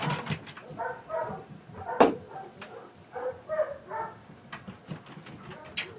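A dog in the room lets out a series of short barks and whimpering yips, several scattered bursts at close range mixed with light background noise.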